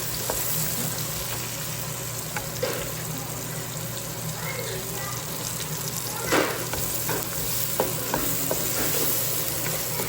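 Onion and tomato for a mutton curry fry in a pan with a steady, moderate sizzle, broken by a few louder stirring crackles midway through.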